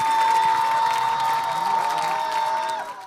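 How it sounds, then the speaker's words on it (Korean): Crowd applause and cheering at a Korean military taekwondo demonstration, a loud, sustained roar of clapping with a steady high tone running through it, fading out at the end. "여러분 뜨거운 박수 부탁드립니다"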